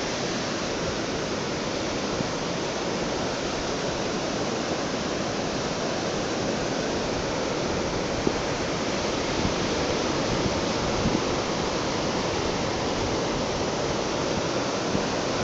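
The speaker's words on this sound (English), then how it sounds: "We've got the waves and the Atlantic swell coming in on a rising tide." Continuous roar of Atlantic surf washing onto the beach at Sennen Cove on a rising tide, a broad steady wash of breaking waves with no voices.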